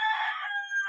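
A rooster, a two-time winning gamecock, crows once up close, loud and steady, with the call holding for under a second.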